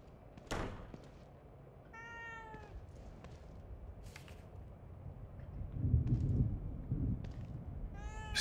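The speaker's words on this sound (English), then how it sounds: "A cat?" A single drawn-out cat meow sounds in the survival horror game The Evil Within 2, fairly clear against a low rumbling ambience that has scattered thuds and a heavier swell of noise near the end.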